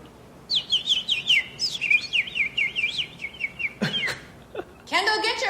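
A woman whistles and chirps in imitation of bird song, a run of rapid warbling trills up close, then a brief laugh-like burst and a final higher flurry of chirps.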